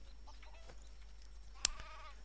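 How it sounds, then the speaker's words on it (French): Sheep in the video game Craft The World: a brief, faint bleat with a short sharper cry near the end, heard alone over a low steady hum. "On a des moutons à les tuer là."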